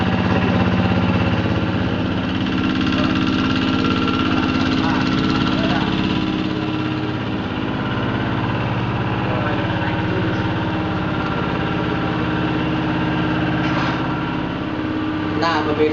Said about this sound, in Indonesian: ini adalah mesin power thresher atau mesin rontokan padi milik Bapak Carna yang sudah jadi